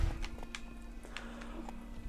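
Horse hooves clip-clop at a steady, even gait in The Witcher 3: Blood and Wine, moderately close over a low constant hum.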